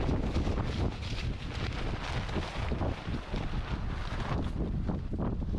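Strong, steady wind at an outdoor campsite, roaring and buffeting the microphone without pause, with gusts rising and falling throughout.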